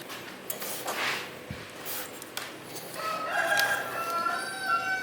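A rooster crows in a workshop where a sliding table saw mechanism is being built, the call coming from a distance as a few faint harmonic bursts over low background noise, with no talking.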